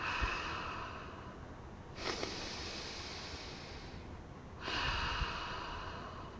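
Two long, airy breaths are drawn in and pushed out close to the microphone to demonstrate diaphragm breathing, each a soft, broad whoosh lasting a couple of seconds, quiet and with no talk.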